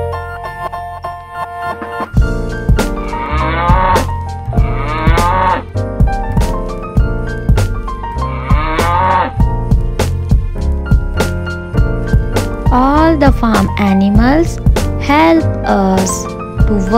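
Cattle moo loudly several times in a row on a farm, long drawn-out lowing calls repeating over steady background sounds with no pauses in between.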